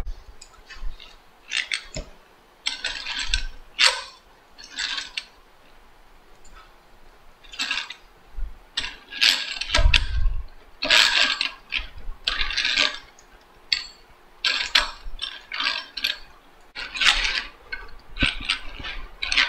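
The right-hand ratchet setting of a North Brothers Yankee hand drill clicks in short, repeated bursts of rapid, crisp ticks, close by with quiet pauses between turns.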